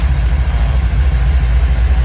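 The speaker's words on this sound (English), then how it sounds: "Engine runs great." A gray Camaro's engine runs steadily at a loud, close idle with a deep, even rumble and no pauses, heard alone without any voices.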